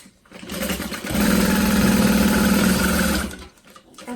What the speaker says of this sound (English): I'm going to sew the back of my pocket on